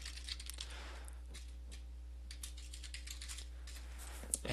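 Names are typed on a computer keyboard in quick, light, irregular key clicks, close and fairly quiet, over a low steady electrical hum.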